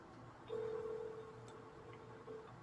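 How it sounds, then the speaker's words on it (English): A single steady telephone tone sounds close by for about two seconds, quiet and clean, with faint room noise and a soft click underneath. "I can hear your phone."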